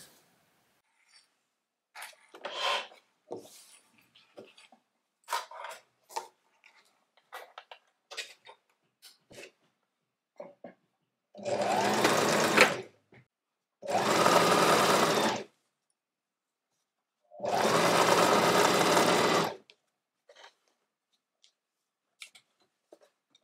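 Three loud, steady bursts of a domestic sewing machine stitching a dress sleeve seam right sides together, each run lasting one to two seconds, separated by quiet handling clicks and fabric rustles.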